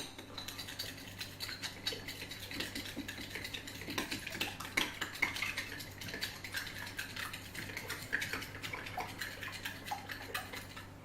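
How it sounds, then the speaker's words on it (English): A spoon clinks and scrapes against a bowl while omelette eggs are mixed, giving steady, close, fairly quiet rhythmic tapping over a low constant hum. "we're going to mix it with a spoon"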